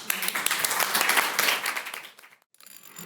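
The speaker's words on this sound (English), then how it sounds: "Let's give her a warm round of applause." Audience at a panel conversation applauds warmly, a full burst of dense clapping that thins and fades out near the end, followed by a brief quiet gap and faint room sound.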